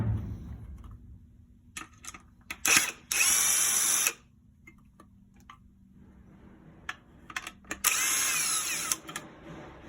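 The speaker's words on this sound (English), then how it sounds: "this is where using a drill just is a lot quicker." A power drill removes screws from a laptop motherboard during a repair. Two loud close whirring bursts of about a second each are separated by clicks and handling noise.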